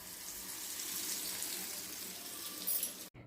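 Bajji fritters made from batter poured into hot oil sizzle steadily, a loud, continuous frying hiss that cuts off abruptly near the end.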